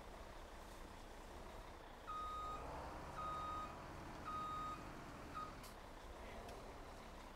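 Truck reversing beeps in Farming Simulator 17 on a Wonewoc WI farm map, several short evenly spaced beeps over a steady engine rumble.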